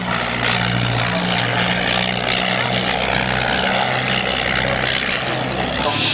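A de Havilland propeller aircraft flies at an air show at Abbeyshrule, Ireland, its steady loud engine drone filling the whole stretch without pause, with faint crowd or announcer voices beneath.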